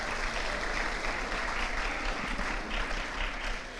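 An audience at a high school awards ceremony claps steadily, a dense patter of many hands applauding at moderate volume throughout.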